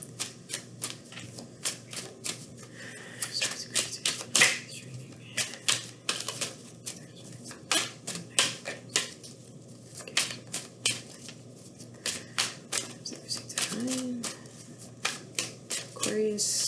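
Tarot cards shuffled steadily up close, a dense run of crisp riffling clicks and snaps with brief pauses between bursts.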